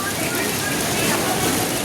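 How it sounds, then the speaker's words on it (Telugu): Heavy rain pouring down at Niagara Falls in the evening, a dense, loud, unbroken hiss of downpour that fills the scene, with a voice mixed in. "ఎంత భారీ వర్షం పడుతుందో, అతి దారుణంగా వర్షం పడుతుంది అన్నమాట."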